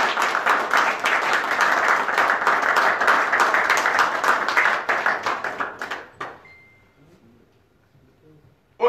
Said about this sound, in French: Je vous demande donc de leur faire, une fois de plus, un tonnerre d'applaudissements.